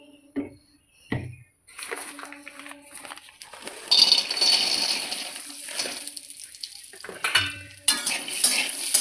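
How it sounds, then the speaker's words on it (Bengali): Cashews and raisins fry in a spoonful of ghee for chana dal halwa, with soft sizzling under clinks of a spoon against the pan, intermittent scraping, and a few sharp metallic taps near the end. "বাদামগুলো ভেজে দিচ্ছি"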